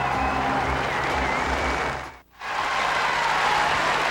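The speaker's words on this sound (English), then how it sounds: "And now the Aussies begin to cheer on court 1" Australian tennis fans at Wimbledon cheer and applaud on Court 1, a broad roar of crowd noise that dips briefly to near silence before swelling back.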